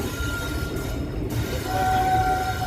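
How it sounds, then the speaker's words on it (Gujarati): A Bhuj to Rajkot daily special passenger train rolls into platform 2 at Rajkot Junction with a steady, close rumble, a faint tonal whine rising near the end. "અત્યારે વ્યુઅર્સ, આપણે એન્ટ્રી લઈ રહ્યા છીએ રાજકોટ જંકશન પ્લેટફોર્મ નંબર 2 ઉપર. આપણી એન્ટ્રી થવા જઈ રહી છે ટ્રેનની."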